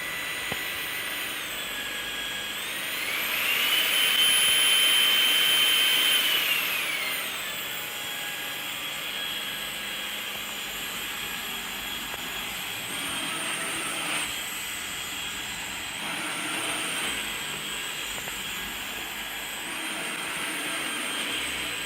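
A Samsung Jet 60 Flex cordless stick vacuum runs with a steady high whine and airy rush, jumping to a louder, higher power setting for a few seconds, then shifting between levels, heard close and alone.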